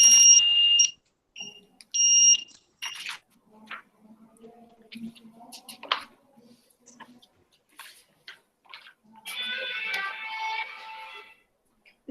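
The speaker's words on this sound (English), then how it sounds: "If any obstacle comes, it will give buzzer sound." Short high-pitched electronic beeps repeat in bursts, followed by a longer sustained buzzing tone near the end, with quiet gaps between.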